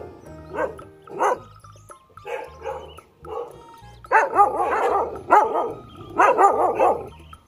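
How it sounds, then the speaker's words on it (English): A dog barking and yipping in a string of quick, close barks that grow louder and denser toward the end, over a light musical backing. "D for dog."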